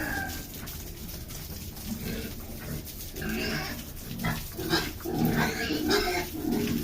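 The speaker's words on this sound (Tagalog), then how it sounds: "Mga baboy na ito." Pigs grunt and squeal inside a piggery farm pen, a busy overlapping chorus growing louder and more agitated toward the end, with farm noise in the background.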